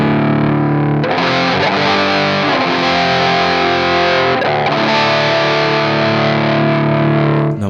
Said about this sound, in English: Now second drive type is metal.